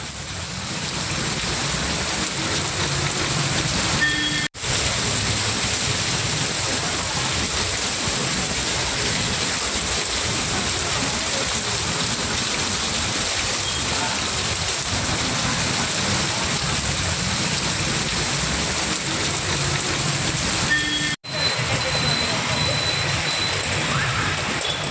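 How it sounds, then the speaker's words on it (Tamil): Heavy rain pouring down in Avadi, Chennai, a dense, steady hiss of water hitting surfaces that continues unbroken, with faint traffic mixed in. "சென்னை ஆவடியில் கனமழை வெளுத்து வாங்கிய காட்சிகளை முதலில் பார்க்கலாம்."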